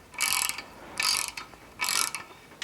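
A ratchet clicks through three quick bursts of tightening on bolts of an LS engine in a Pontiac Firebird Trans Am, crisp metallic pawl rattles separated by short pauses, close and clear with no talking.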